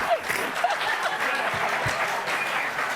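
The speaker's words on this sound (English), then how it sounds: "I love that they applauded that." A studio audience applauds with a steady, dense clapping that stays fairly loud throughout, along with a few scattered chuckles.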